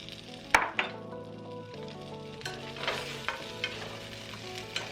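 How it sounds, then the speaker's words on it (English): Scallops and lobster stir-fried with ginger and green onions in a hot pan: a crackling sizzle with sharp clatters of tossing and stirring near the start, then lighter scrapes and taps, close by and with no talk. "Add your scallops."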